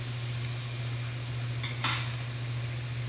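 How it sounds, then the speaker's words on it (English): Garbanzo beans tipped into a hot pan for an Indian stir-fry, giving a steady hissing sizzle over a low constant hum, with a brief louder burst of crackle near the end. "So now I'm adding the garbanzo beans."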